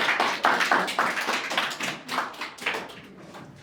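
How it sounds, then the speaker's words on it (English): A small audience at a teen politics event gives a round of applause, sparse distinct hand claps in an uneven rhythm, close and fairly loud, tapering off toward the end. "Give a round of applause."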